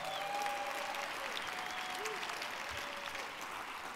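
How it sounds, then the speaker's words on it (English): Steady audience applause at a state arts awards ceremony, moderately distant and even in level throughout, with a faint tone and a few voices underneath. "A big round of applause for Mesa Arts Center"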